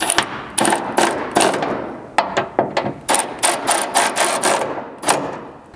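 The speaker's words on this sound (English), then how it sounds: "switching the ratchet around, we can now tighten both of these up" A ratchet clicks in quick repeated bursts while tightening bolts on a ditch light bracket fitted to a 4th-gen Toyota Tacoma, with sharp metallic ticks coming in uneven clusters close up and no talking.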